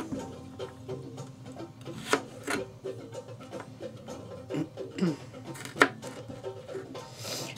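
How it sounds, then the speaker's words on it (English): A pepper is chopped on a board, giving uneven knife taps and scraping rubs with a few sharper knocks, while someone talks faintly in the background. "chop up your pepper"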